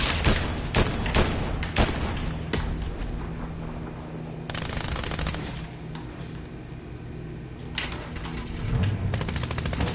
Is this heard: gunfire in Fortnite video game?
yes